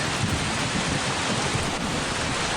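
A thunderstorm in the Roblox game Grow A Garden, with steady loud rain and a deep rumble of thunder from a lightning strike filling the whole stretch with no talking.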